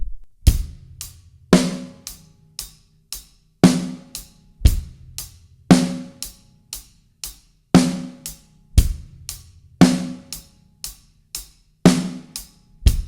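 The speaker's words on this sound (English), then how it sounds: "on beats 2 and 4, we're going to hit our snare drum with our right hand" A drum kit plays hi-hat eighth notes with kick drum and the snare struck on beats two and four, a steady, loud, close groove of bright ticks and heavy backbeats without any voices.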